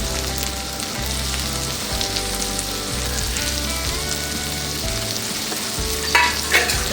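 Tomatoes sautéing in a pan, a steady close sizzle with a low pulsing hum beneath, ending in a couple of louder scrapes and clinks.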